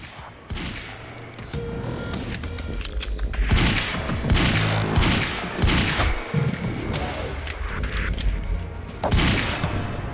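Rapid gunfire bursts from the Remedyverse video game, repeated loud shots and heavy thumps layered over a dense, busy game soundscape for the whole stretch.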